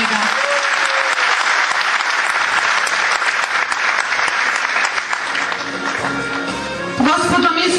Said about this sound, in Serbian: Molim vas jedan aplauz za njega.